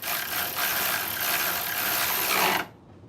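A ratchet with a 12 socket tightens the battery terminal on a Toyota Camry, giving a rapid, close, continuous clicking for over two seconds that stops abruptly.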